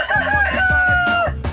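A rooster crows loudly and close by in one long drawn-out call that holds steady and then breaks off, with faint clucking from other fowl on a farm around it.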